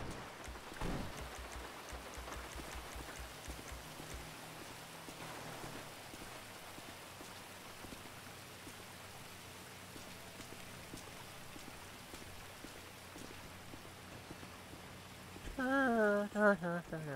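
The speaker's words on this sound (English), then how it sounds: "I'm just it's raining." Steady rain falls in the GTA 5 video game, a continuous soft patter and hiss on surfaces throughout, with a brief louder burst near the end.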